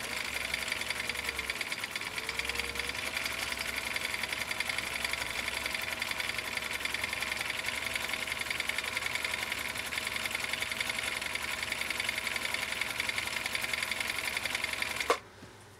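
A vintage Swedish sewing machine runs a continuous stitch, a steady fast mechanical whirring and clatter that holds evenly for about fifteen seconds before stopping abruptly with a click.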